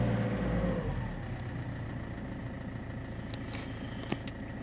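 A car engine revs and is held at a steady raised speed, a continuous mid-pitched drone with slight wavering and a brief click near the end, close by with no talking.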